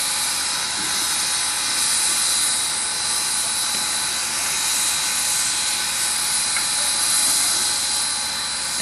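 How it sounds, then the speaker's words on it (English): A steady, loud hiss of steam with a constant mechanical drone, continuous and unbroken throughout, no talking, from a 1911 steam locomotive on a 1916 turntable. "our 1911 steam locomotive and our 1916 turntable in operation today"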